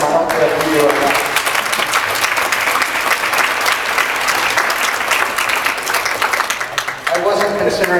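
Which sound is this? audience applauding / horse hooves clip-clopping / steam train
audience applauding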